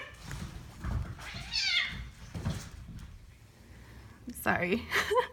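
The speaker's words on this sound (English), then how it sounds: "Fighting cats." Cats fighting, with several yowling, wailing meows rising and falling in short bursts across a few seconds, fairly faint and mixed with other noises.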